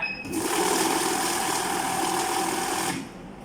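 A PHET FT-501 banknote counting machine runs through a stack of bills, a steady, close whirring rattle lasting about three seconds before stopping abruptly, with no talking.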